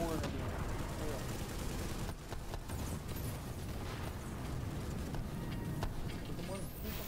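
Gunfire in The Division during a power-plant fight rattles on without pause, dense bursts and sharp cracks layered over a busy battle din, with voices talking through it.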